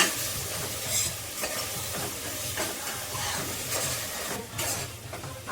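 Ginger garlic paste fries in oil over high flame, a close steady sizzle and hiss with irregular stirring scrapes throughout.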